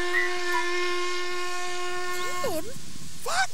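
A steam train's whistle blows one long, steady, loud blast that bends and wavers in pitch as it ends, followed by a short second toot over a soft hiss of steam.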